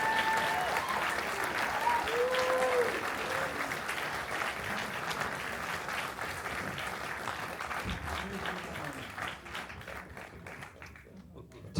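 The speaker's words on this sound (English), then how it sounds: "how about a big round of applause for the legend?" A theater crowd in Santa Ana gives Jesus Christ Superstar star Ted Neeley a long, dense round of applause with cheering voices mixed in, steady and loud before gradually thinning toward the end.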